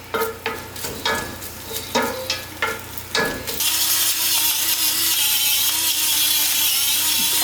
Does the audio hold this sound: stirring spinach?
yes